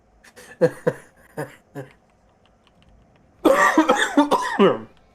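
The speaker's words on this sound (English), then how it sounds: "Damn cough." A few sharp coughs sound close up, followed by a louder burst of throat-clearing coughs; the room is quiet otherwise.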